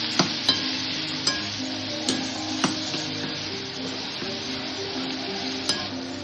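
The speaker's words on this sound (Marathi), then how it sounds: "नंतर धुवून त्याच्यात तेला मिठात फ्राय करायचे" Finely chopped ridge gourd fries in oil with salt, giving a steady, close hiss of sizzling, punctuated by a few sharp clinks of a spatula stirring against the pan.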